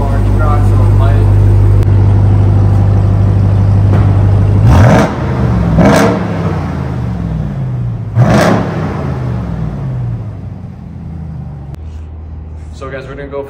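A 2023 Ram TRX truck idles in comfort mode inside a closed parking garage, a deep loud rumbling engine drone with two sharp bursts echoing off the walls midway, then settling to a lower steady hum.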